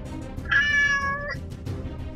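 A hungry cat gives one clear, drawn-out meow close by, rising and then falling, with a short faint sound after it and no talking.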